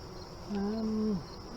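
A steady honey bee buzz rises around a hive over a quiet background, holding for about half a second before dropping off, close and fairly loud against faint hum.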